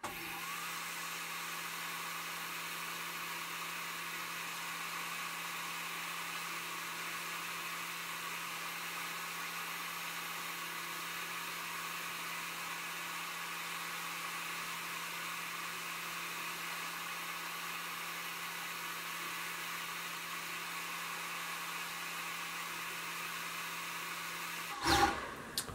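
An Atezr L2-02 24W laser engraver runs its passes as a steady, even mechanical whir with a constant hum, unchanging for most of the span before a brief louder bump near the end.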